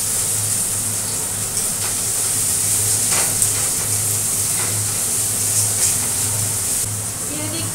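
Garlic and onion tempering sizzling in hot oil, a steady bright frying hiss with low kitchen hum underneath and someone talking over it.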